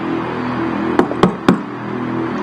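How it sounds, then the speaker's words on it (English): Three sharp knocks land in quick succession, close and distinct, over a low steady background hum. "Again, a knock."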